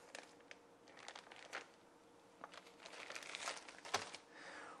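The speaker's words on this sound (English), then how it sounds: "We'll start by removing the 2 lengths of hoses out of the bag and the small inline pre-filter." Water ionizer hoses and a small inline pre-filter being pulled out of a plastic bag, a quiet close-up crinkling rustle with scattered sharp crackles.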